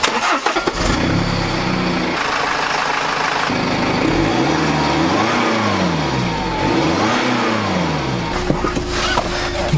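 A BMW X1 xDrive23d diesel SUV starts off and accelerates, its engine rising and falling in pitch through repeated revving sweeps, heard from inside the car at close, steady loudness.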